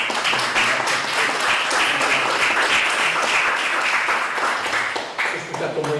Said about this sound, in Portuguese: Acho que merece uma salva de palmas mais uma vez